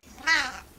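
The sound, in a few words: cat meow sound effect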